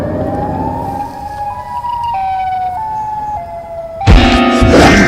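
Sound of the Silent Head, a creature by Trevor Henderson: loud siren-like wails that step up and down in pitch, ending in a harsh, noisy blast.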